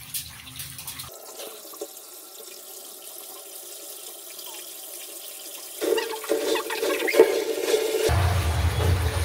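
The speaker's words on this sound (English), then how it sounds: "So I'm going to start filling the bath up now." A bath filling with cold water from the tap indoors, a steady rushing pour that grows louder and fuller toward the end, with no talking.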